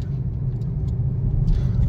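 Car engine rumbling steadily while driving and looking for parking near Ranikhet, a continuous low drone with no speech in the clip.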